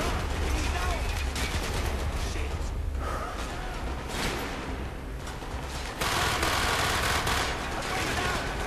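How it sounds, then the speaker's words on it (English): Dense, continuous gunfire from Call of Duty: Black Ops fills a Russian-soldier shootout scene, loud and unbroken throughout, with rapid automatic bursts layered over the battle noise. "So we're shooting at everybody but two other Russian soldiers."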